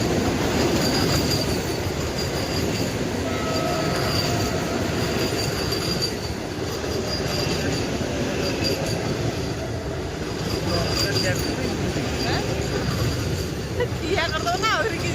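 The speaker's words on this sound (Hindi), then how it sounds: "मु नुआगा स्टेशन लो अछि ना देखो तो वंदे भारत ट्रेन आउची" Passenger train pulling into Nuagaon station, a dense, continuous rumble of wheels and carriages close by, with faint metallic squeals and a voice talking over it.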